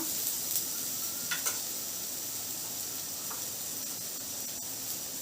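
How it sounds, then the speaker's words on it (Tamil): Onions fry in a pan for a spinach and potato gravy, giving a continuous close hiss and crackle with faint stirring scrapes scattered through. "2 மினிட்ஸ் வந்து இந்த மாதிரி நல்லா ஆனியனை வந்து ஃப்ரை பண்ணுங்கள்"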